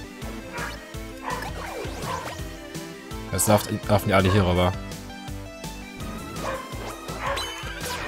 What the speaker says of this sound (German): kann mein Hund vielleicht mal aufhören zu bellen?